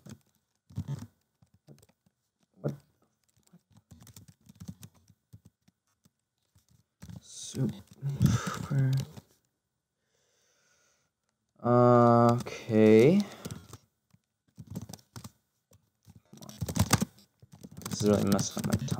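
Rapid typing on a computer keyboard during a 10 Fast Fingers speed test, with bursts of close, clattering key presses that alternate with a person talking.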